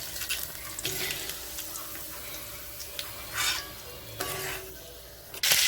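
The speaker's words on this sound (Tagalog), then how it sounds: "Prito ang manok." Native chicken fries in a hot pan, sizzling and crackling steadily, with occasional scraping and stirring sounds over the constant hiss.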